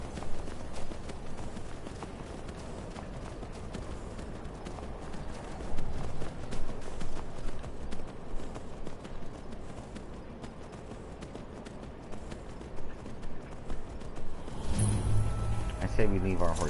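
Horse hooves clip-clop steadily in the video game Skyrim, a continuous run of hoofbeats at moderate loudness over a busy game soundscape, with a brief change in the sound near the end.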